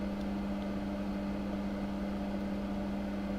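A workshop fume extractor runs continuously, a steady low hum with a strong constant tone and a faint airy hiss, even and unchanging, with no talk.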